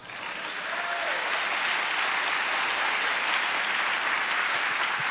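A church congregation bursts into applause, swelling within the first half second into a steady, dense wash of clapping that stays loud and even to the end, with a faint voice near the start.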